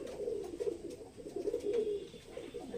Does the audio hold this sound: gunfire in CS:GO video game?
no